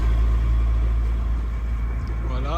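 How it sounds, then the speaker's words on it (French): A sailboat's inboard engine drives the boat off the Greek island of Euboea, a loud, steady low drone with a constant mechanical hum throughout. "Alors on finit au moteur."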